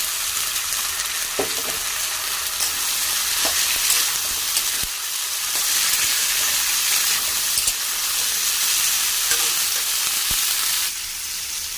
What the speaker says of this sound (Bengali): আলুটা একটু লাল হয়ে গেছে, এবার দিয়ে দেবো ভেজানো ছোলাটা।